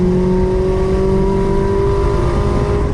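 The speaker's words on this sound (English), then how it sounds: "Now that car was running full aero, and it is a race car." A DIY Ecotec-engined Mazda Miata race car running full aero on Hankook RS4 tires laps a track, its engine a steady, loud, sustained drone with a slowly shifting pitch.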